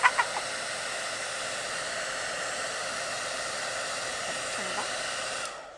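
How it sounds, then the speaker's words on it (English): A hair dryer running on high heat over a candle being made as personalized art blows a loud, steady whooshing roar for over five seconds, with a few light clicks at the start and an abrupt stop at the end. "you're probably not going to be able to hear us when the hairdryer is going"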